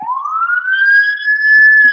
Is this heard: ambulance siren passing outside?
yes